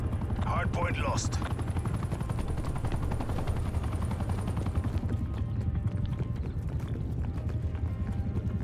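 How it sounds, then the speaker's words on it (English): An attack helicopter in Call of Duty: Black Ops Cold War gives a steady low rotor drone through the whole stretch, mixed with rapid rhythmic game effects like hooves and gunfire. "Hostile attack helicopter inbound."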